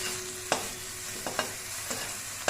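Home-grown brinjal pieces fry in a pan with a constant sizzling hiss, punctuated by a few light spatula taps and scrapes as they are stirred.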